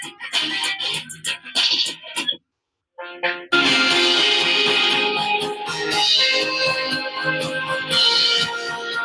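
Music plays through a homemade Bluetooth speaker built from an old LED bulb, loud and full with a brief drop to silence partway through before resuming.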